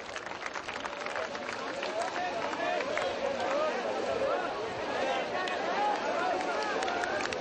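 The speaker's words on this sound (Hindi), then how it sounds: "जोरदार तालियों के बीच डॉक्टर यशदेव जी का अभिनंदन करें" A large audience applauds steadily at a ceremony honouring a doctor with a memento, with a dense continuous wash of clapping and crowd murmur throughout.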